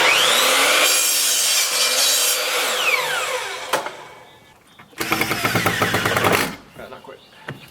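Wood is cut with a saw for a bed platform in a 2017 Dodge Grand Caravan van build. A loud rasping cut runs for several seconds, drops into a quieter lull, then comes back in a second burst, close by.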